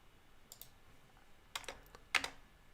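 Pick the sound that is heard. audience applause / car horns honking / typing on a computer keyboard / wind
typing on a computer keyboard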